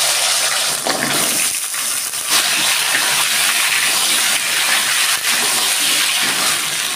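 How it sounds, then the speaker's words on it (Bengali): Cut taro stems fry in a hot pan, giving a constant loud sizzling hiss throughout with slight surges and no talk. "এবার আমি এগুলো একটু ভেজে নেব।"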